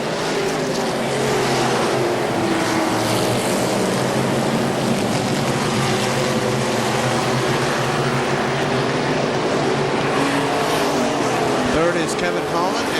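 Race cars roar around KilKare Speedway in a short-track race, with a dense continuous engine drone at steady loudness and a commentator talking over it throughout.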